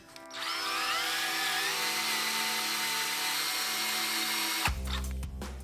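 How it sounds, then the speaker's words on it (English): A power drill boring out stuck bolts on a dirt bike exhaust: a close, high steady whine for about four seconds that cuts off abruptly, followed by a few metallic knocks and handling clunks. "Guess I'm just gonna have to drill these things out."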